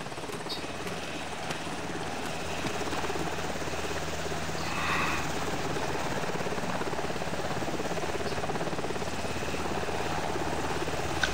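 A helicopter engine and rotor drone steadily from close by during a parachute drop flight, a loud continuous whine and beat throughout with no clear voices.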